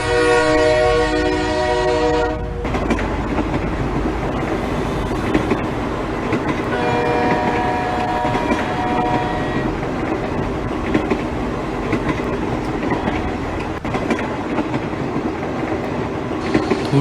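A passenger train runs steadily on its way to Kanpur, opening with a sustained horn blast and settling into a continuous rumble and rhythmic rattling of the cars that stays loud and close throughout, with no talking.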